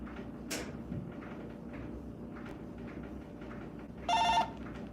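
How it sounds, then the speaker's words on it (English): A mobile phone rings briefly near the end, a bright, regular electronic tone standing out over a quiet room with faint background noise and a short burst of sound earlier. "My phone is going off here."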